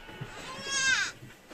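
One purebred Anglo-Nubian goat gives a single drawn-out, wavering bleat at moderate distance, rising then trailing off, with faint barn background noise around it.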